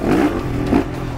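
A Honda CRF 450 RX Rally 2024 rally motorcycle engine revs hard twice in quick succession, loud and close, with a gritty rasping bark that swells and drops between the bursts.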